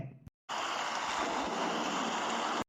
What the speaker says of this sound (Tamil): இந்தா வந்தாச்சுல மழை